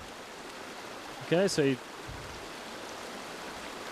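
A shallow river flowing over stones, a steady soft wash of water throughout, with a brief voice speaking over it partway through.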